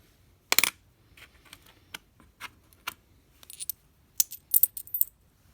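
A 50% silver dime dropping onto a hard surface, giving a bright ringing clink followed by a series of smaller bounces and rattling pings, fairly quiet and close.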